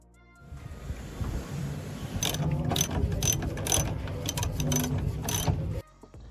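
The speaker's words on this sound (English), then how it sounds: "Using a 10mm socket and a long extension to remove the bolt from there underneath." A socket wrench with a 10mm socket on a long extension ratchets under a Nissan 370Z NISMO rear bumper to loosen a bolt, giving a close run of quick clicking bursts that stop abruptly near the end.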